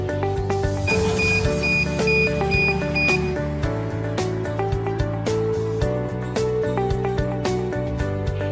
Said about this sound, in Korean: 알람이 울리면 탈피된 밤이 자동으로 배출됩니다.